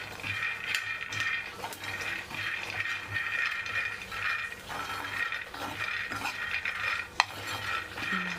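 Chickpeas and other chutney powder ingredients dry-frying in a pan, with repeated scraping stirs of a utensil against the metal and occasional light clinks over a faint hiss.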